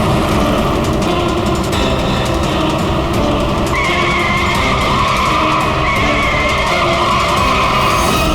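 A car and a truck skid on the road during a chase, with loud, sustained tire screech and engine roar, plus a higher squeal emerging midway, continuous and close with no talk.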